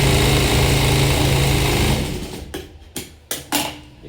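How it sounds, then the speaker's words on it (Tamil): A sewing machine stitches the folded hem of a blouse, running steadily for about two seconds, then slowing into a few short stop-start bursts, close and loud. "இந்த மடக்கி தைக்கிறது."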